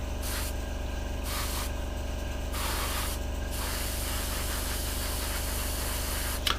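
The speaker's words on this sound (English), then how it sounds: "we can spray the cockpit." An airbrush sprays paint onto the cockpit of a Hasegawa 1/48 Harrier GR7 model kit, giving a steady close hiss that pulses on and off in short bursts over a constant low hum.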